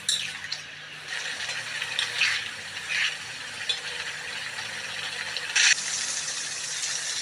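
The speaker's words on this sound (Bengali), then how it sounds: "আর একটু পরিমাণ বাটি ধোয়া জল দিয়ে নাড়িয়ে নিচ্ছি" A spoon stirs chili chicken sauce thinned with a splash of bowl-rinsing water in a pan, giving soft, irregular scraping and sloshing strokes with a few sharper clinks.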